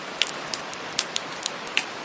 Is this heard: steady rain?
yes